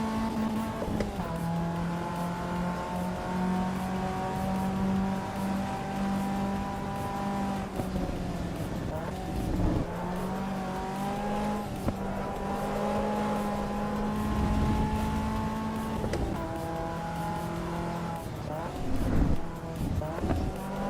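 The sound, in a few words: car driving at full throttle in video game Assetto Corsa Evo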